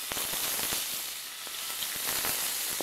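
Boiled baby potatoes hit hot oil in a pan for a potato fry, giving a steady, fairly loud sizzle with scattered crackles and pops, no talking.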